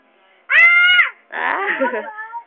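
A person screaming on request, two loud close shrieks: a sharp high-pitched scream followed by a brief pause and a second, longer wavering wail.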